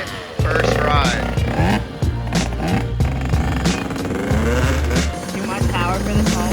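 A KTM 105 Supermini motorcycle fitted with a big bore kit and big wheels rides hard, its two-stroke engine revving loud and close with rapid rising and falling pitch through repeated gear changes.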